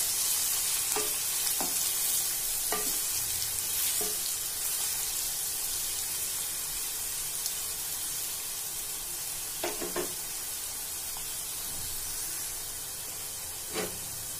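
Onions sizzle and fry in a pan for a soya pulao, with a steady hiss throughout. Occasional sharp taps and scrapes of a spoon stirring punctuate it, close and moderately quiet.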